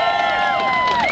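A crowd at a college Republicans event cheers and whoops for a speaker being welcomed, a loud burst of voices and shouts close by.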